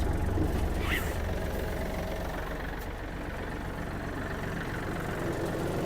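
A Yanmar AF-28 mini tractor runs with its PTO and tiller engaged, giving a steady, loud diesel drone with a low rumble and no pauses.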